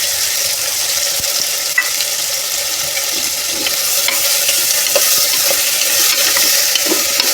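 Mixed vegetables such as cauliflower, cabbage, peas and tomatoes sizzle steadily in a hot pan while being stirred, with a continuous bright frying hiss and occasional scraping clicks of the spoon, no voices.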